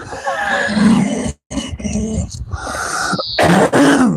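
Harsh, raspy coughing and throat-clearing bursts close to the microphone, several rough barks separated by brief gaps, mixed with a person's voice outdoors.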